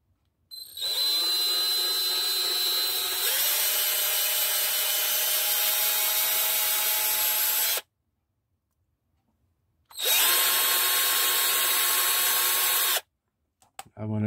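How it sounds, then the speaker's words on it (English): A power drill bores a big hole, whining steadily at close range for about seven seconds, shifting pitch partway through, then falling silent before a second, shorter three-second run. "Now we're gonna drill a big hole here."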